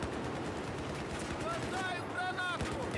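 A grenade explosion in a first-person shooter game, heard as a dense, continuous roar of blast and gunfire noise with faint high-pitched tones layered above it.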